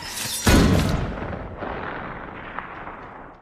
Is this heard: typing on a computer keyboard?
no